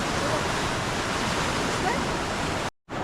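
Rushing floodwater near a bridge in Konkan after a morning of heavy rain, a loud dense continuous roar of water close by, cutting off abruptly near the end.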